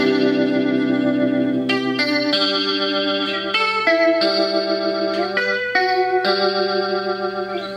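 An electric guitar plays through a Digitech Crossroads pedal with the effect turned to maximum, giving chorused, distorted, sustained notes and chords that shift every second or so. It is loud and steady throughout, with no voices.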